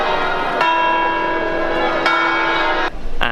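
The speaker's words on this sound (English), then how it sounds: "These two men, they are beating every single hour with a hammer against the bell." A bell on an astronomical clock in Brescia, struck by hammer-wielding figures on the hour, rings out in three loud, close strikes, each leaving a long metallic hum that overlaps the next.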